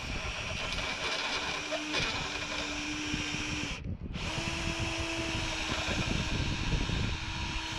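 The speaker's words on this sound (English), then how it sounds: "this is how long it takes to enlarge the hole to accommodate the bolt" A steady whining drill bit enlarges a hole to take a bolt, running continuously and close with a short pause partway through.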